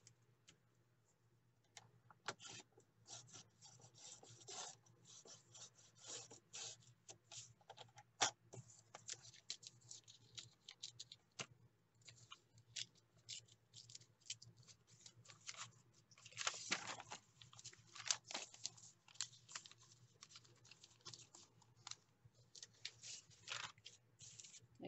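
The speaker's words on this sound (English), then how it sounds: "I'm just trimming off the papers right now, the ones that are cut and whatnot." Scissors trimming the edges of paper for a handmade traveler's notebook journal, a long run of faint, close snipping and paper rustling in irregular bursts over a low steady hum, without talk.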